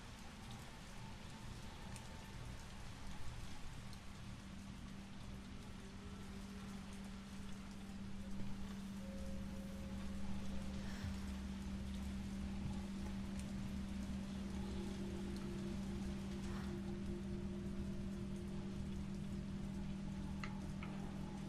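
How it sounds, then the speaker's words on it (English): Sideways rain in the Resident Evil 3 video game, a constant faint hiss of rainfall with steady hums and occasional soft ticks in the background. "It's raining sideways."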